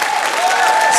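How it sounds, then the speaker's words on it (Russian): Studio audience applause at a Russian comedy show, a dense and steady wash of clapping that stays loud and even throughout the short moment. "Эти аплодисменты вам."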